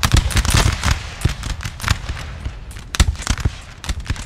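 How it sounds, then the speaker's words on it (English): A musket volley from line infantry gunners in Napoleon Total War, dense crackling rounds of shots rolling through the battle, loud and ragged, with repeated bursts over a constant din. "keep my gunners engaging the enemy. Go on, 65th. An almighty volley there."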